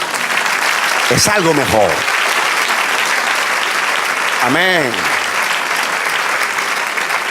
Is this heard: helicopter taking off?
no